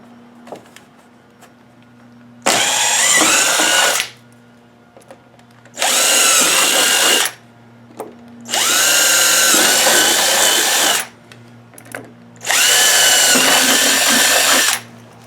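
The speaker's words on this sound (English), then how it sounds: "pre-drill the rest of my holes." A power drill pre-drills holes for a mudbuster mudflap install in four loud, steady bursts of a few seconds each. Short quiet gaps separate the bursts, and nobody speaks.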